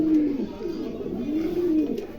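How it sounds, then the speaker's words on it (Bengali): A pair of Lakkha pigeons coos in soft, rising and falling calls, two clear coos close by over a low steady background hum. "চমৎকার এক জোড়া কবুতর, কারো ভালো লাগলে অবশ্যই সংগ্রহ করতে পারেন।"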